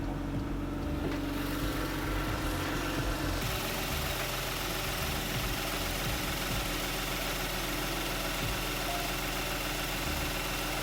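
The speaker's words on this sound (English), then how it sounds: "let's get some of the exterior engine noise" Steady exterior engine idle of a car, captured close to the exhaust tailpipe; a continuous low rumble with slight vibration, alone with no talking.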